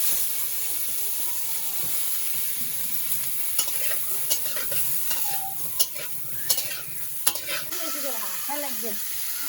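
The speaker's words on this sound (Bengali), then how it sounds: "আমার কপিটা দিয়ে দিলাম একটু ভেজে নিই" Cauliflower pieces fry in hot oil in a pan, giving a continuous close sizzle with scattered clicks and scrapes from stirring, and no talk.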